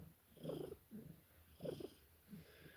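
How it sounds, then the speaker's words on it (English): A cat gives short, clucking, chicken-like vocalizations in a few quiet bursts with purring undertones, close and faint against a soft background. "This cat is probably going to participate. I don't know why she sounds like a chicken."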